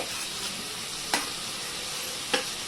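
Vegetables such as cauliflower and potato sizzle in a hot pan for veg pulao, a steady hiss of frying with two sharp clinks of a utensil against the pan, no talking.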